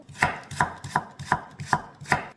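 A knife thinly slices radish on a cutting board, six or seven evenly spaced crisp thuds close by, with no talking.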